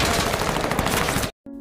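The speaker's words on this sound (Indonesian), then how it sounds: "pasukan Antonio telah menemukan mereka dan menembaki mereka dengan brutal" Troops fire automatic weapons in a film action scene, a loud, dense, continuous burst of rapid shots that cuts off abruptly.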